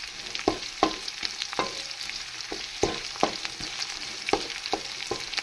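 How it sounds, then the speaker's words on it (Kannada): Whole garam masala spices fry in oil in a pan, with a steady sizzle broken by regular sharp scrapes and taps of a spoon stirring, close and clear, with no talking. "ಇವಾಗ ನಾನು ಗರಂ ಮಸಾಲ ಐಟಮ್ಸ್ ಏನೇನಿದೆ ಅದನ್ನೆಲ್ಲ ಹಾಕ್ಕೊಂಡು ಚೆನ್ನಾಗಿ ಫ್ರೈ ಮಾಡ್ಕೊಳ್ತಾ ಇದ್ದೀನಿ"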